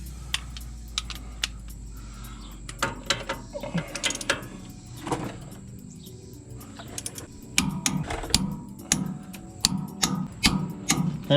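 Torque wrench tightening leaf-spring bolts on a Dana 60 front axle to 150, a series of close, sharp ratcheting clicks in bursts with pauses between pulls, plus some metallic handling clatter.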